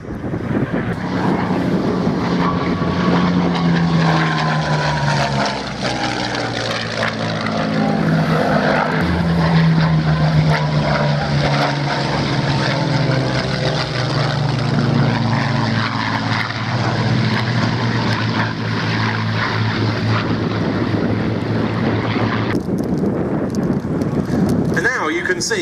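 Spitfire and Messerschmitt 109 propeller fighters dogfight overhead, their piston engines droning and shifting pitch as they manoeuvre. The sound is sustained and fairly loud, with wind noise and someone talking over it.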